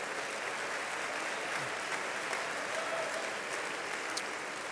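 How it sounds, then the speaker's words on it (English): Steady applause from a banquet crowd honoring the host committee at the 56th Annual Golden Fellowship Dinner, a dense, even wash of clapping held for several seconds at moderate distance. "All the members of the host committee, let's give them a round of applause."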